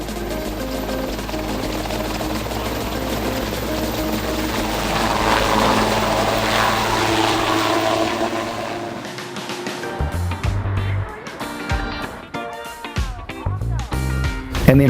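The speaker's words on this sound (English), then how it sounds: "I can hear the choppers coming." A helicopter's throbbing rotor drone fills the first part, followed by people talking amid clattering and shifting noise.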